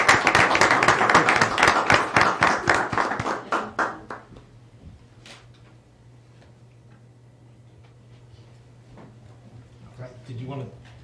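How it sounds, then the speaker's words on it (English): Council meeting audience gives a round of applause, loud dense clapping close by that thins out and fades after about four seconds, followed by quiet room tone, a few stray sounds and a voice speaking near the end. "let's give Arnetta Quarles a great round of applause"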